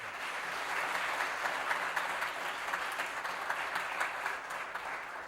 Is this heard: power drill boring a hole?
no